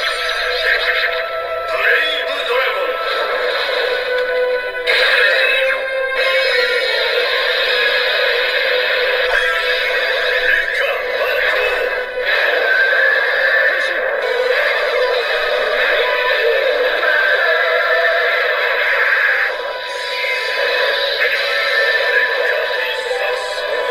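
A Kamen Rider Saber toy sword, the Kaenken Rekka emblem set, plays dense electronic background music with layered sound effects, loud and continuous throughout.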